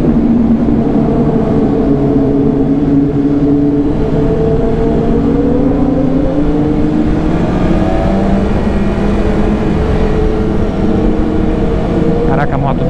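A black BMW S1000RR sport motorcycle ridden just after leaving the dealership, its engine droning steadily and loudly with rising and falling pitch as it accelerates, with a voice talking over it.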